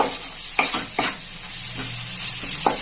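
Spice masala stir-fried in a pan for prawn chops, a fairly loud steady sizzle with a handful of spaced spatula scrapes and taps close by, no talking.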